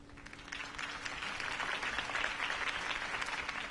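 A crowd applauds after a campaign speech in a Batman video game, sustained clapping that swells slightly and holds for several seconds, moderately loud and without voices.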